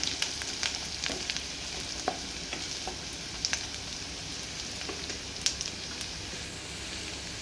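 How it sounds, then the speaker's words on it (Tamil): Onions for a Madras-style chicken curry fry to golden brown in a pan, a constant close sizzle dotted with crackles and scattered spatula scrapes and clicks, and no talking. "நல்லா கோல்டன் ப்ரௌன் ஆகட்டும் வெங்காயம்"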